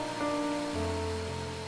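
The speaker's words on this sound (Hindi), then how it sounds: "26 जुलाई की रात, जोरों की बारिश हो रही थी।" Heavy rain pours as a steady, dense hiss at night, with low sustained musical tones layered over it in a horror story scene.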